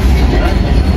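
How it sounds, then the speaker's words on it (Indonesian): A passing train roars past the Cakrabuana passenger train near Cirebon, Indonesia, a loud, dense rumble with rail clatter that fills the whole second. "Kita berpapasan teman-teman sama kereta api"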